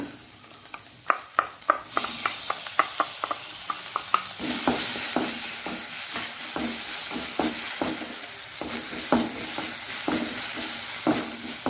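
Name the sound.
tomatoes and curry leaves frying in a pan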